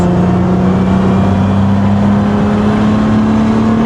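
A 2024 Lotus Emira sports car lapping a race track, its engine droning loud and steady at high revs with a slowly rising pitch, heard close with no talk.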